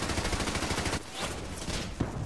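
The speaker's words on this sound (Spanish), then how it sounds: "Tab sucumbió a los disparos de las ametralladoras alemanas." Rapid bursts of German machine-gun fire on a World War II battlefield near a minefield, a dense, loud volley for about a second, then thinner, scattered shots with one sharp crack near the end, with no voices.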